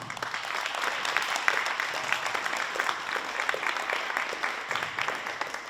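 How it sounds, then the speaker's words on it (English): Applause from an audience for coaches at a college athletics news conference, a continuous patter of many hands clapping at moderate loudness, sustained throughout. "Round of applause to our coaches."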